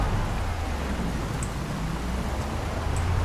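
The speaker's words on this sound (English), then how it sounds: "Still raining. And it's been raining for 3-4 days now, maybe?" Steady rain falls in the Project Zomboid video game, a continuous even hiss of downpour with no breaks, moderately loud and alone without any talking.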